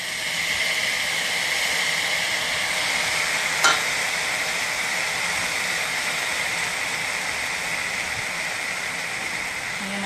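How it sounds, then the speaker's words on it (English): Vegan Spanish vegetable paella rice sizzling in a pan, a steady bright hiss of frying that runs unbroken and fairly loud with one brief click partway through, and no voices. "You hear that sizzle."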